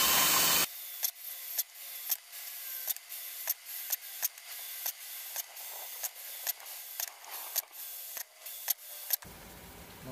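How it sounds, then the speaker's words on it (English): Punched holes in a metal soup can being enlarged with a tool, a series of short sharp scraping and creaking strokes at uneven intervals, close and fairly loud, with no voices. "We're going to take these first holes we made and enlarge them."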